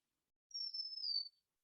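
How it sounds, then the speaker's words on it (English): A single thin, high bird chirp held for under a second, clear and alone against silence. "We'll notice the birds singing"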